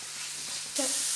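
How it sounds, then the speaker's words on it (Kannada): Green chillies and curry leaves fry in a pan, a brief, steady sizzling hiss that jumps slightly louder partway through, with a faint voice-like tone near the end. "ಈಗ ಕಾಯಿ ಮೆಣಸು ಕರಿಬೇವು ಹಾಕುವ. ಚೆನ್ನಾಗಿ ಫ್ರೈ ಮಾಡೋದು ಸಹ ಹಸಿ ವಾಸನೆ ಹೋಗೋ ತನಕ."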